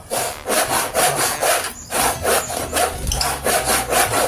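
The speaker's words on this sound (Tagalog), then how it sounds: "Naglalagari ko yung tuntukan, yung perch." A hand saw cutting through a wooden bird perch, with loud, close back-and-forth strokes in a steady rhythm of roughly two per second.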